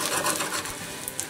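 Pasta fries on lower heat in a pan for a pasta pizza, giving a soft continuous sizzle with light scraping and a couple of small clinks as the pan is tossed.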